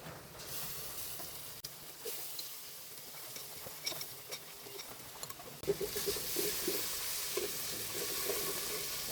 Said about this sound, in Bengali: এখন পেঁয়াজটা ভাজা হয়ে গেছে, আগের মশলাগুলো দিয়ে দিব।